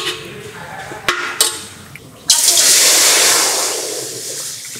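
Water poured into a cooking pot, with a couple of sharp knocks as a stand is set down inside, then a steady, close rushing pour that fades slightly toward the end.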